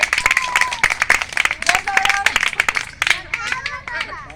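Crowd clapping and applause at an eco-friendly Ravana event, dense and steady, with cheering voices and shouts mixed in throughout.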